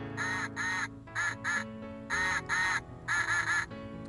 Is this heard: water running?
no